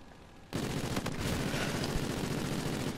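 Heavy automatic gunfire in Call of Duty starts abruptly after a short quiet moment and continues as a loud, dense, continuous burst of rapid shots.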